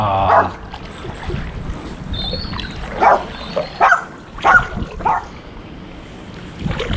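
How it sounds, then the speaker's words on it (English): A guard dog barking at a house beside the River Soar, a few sharp barks scattered over steady water and outdoor noise, moderately close and fairly loud. "This house has got a guard dog obviously."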